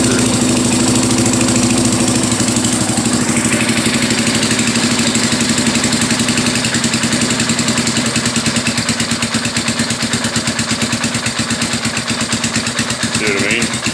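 A Yamaha Warrior 350 ATV engine runs close and loud, holding a high revving drone after the throttle is released, with rapid pulsing firing and a slight fluttering unevenness throughout.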